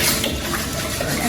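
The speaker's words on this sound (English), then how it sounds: "we're just gonna add some water into it." Water pours from close range into a bowl of rice for washing, giving a short, soft, steady splashing gush.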